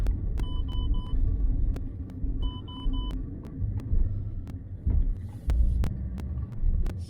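A Lancia Thesis engine rumbles low and uneven as the car pulls away in first gear, with faint periodic beeping tones and light clicks over the throb.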